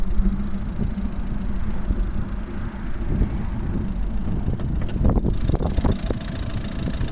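Volvo S40 from 2011 with a 1.6 D2 Peugeot Citroën diesel engine idling, a steady low rumble heard close up with a few sharper clatters near the end.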